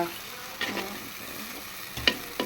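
Onions sauté with soft sizzling in a pan, with a few short scraping stirs of a spoon, quiet and close, no talking.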